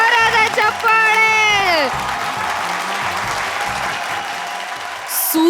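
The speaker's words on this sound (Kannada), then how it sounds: "ಜೋರಾದ ಚಪ್ಪಾಳೆ." A studio audience breaks into loud, sustained applause with scattered cheers. A voice is heard at the start and someone speaks again at the end.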